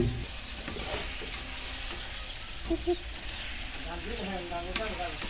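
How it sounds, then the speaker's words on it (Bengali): Chicken pieces sizzle in a pan of sauce while being stirred, a steady close frying hiss with scraping stirs and occasional clinks. "এবার চিকেনগুলিও দিয়ে দিচ্ছে।"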